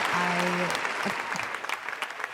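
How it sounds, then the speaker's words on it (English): Studio audience clapping on a podcast set, a dense burst of applause that starts with a tonal tone briefly riding over it, then thins out into scattered individual claps. "Let's give an applause for modeling school."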